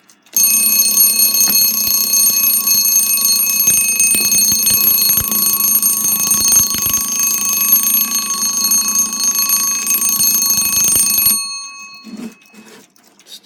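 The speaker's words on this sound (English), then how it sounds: "Still not bad tone on that clock." A 1944 wartime Westclox Baby Ben alarm clock with un-plated movement rings its bell in a loud, continuous metallic rattle for about eleven seconds, then stops abruptly, leaving faint handling clicks.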